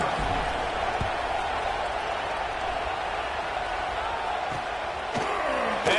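A football stadium crowd at an LSU game against North Carolina gives a steady, loud roar with scattered thumps, while a broadcast announcer talks over the noise.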